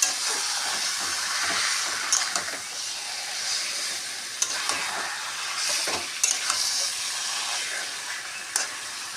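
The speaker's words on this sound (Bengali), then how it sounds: "এবার স্টিম কমিয়ে দিয়ে আস্তে আস্তে নাড়তে হবে।" Taro leaves cooked with mung dal and Gobindobhog rice are stirred in a hot pan on reduced heat, giving a steady close sizzle and hiss with soft scraping strokes and a few sharper clinks of the utensil against the pan.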